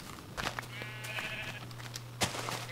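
Several Minecraft sheep bleat in the game's blocky world, a few overlapping wavering baas at moderate volume over a steady low hum, with a sharp blocky click near the end and no talking.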